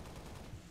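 Gunfire in the Halo Reach video game, a short burst of rapid, dense shots that sit fairly quiet and distant in a busy mix.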